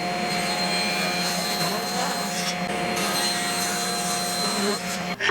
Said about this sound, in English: So here at the table saw, we'll rip down the curly maple and the Jatoba